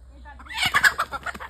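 Roosters cluck and call in a short burst of fowl sounds, fairly close and moderately loud, with overlapping squawks building midway and continuing to the end.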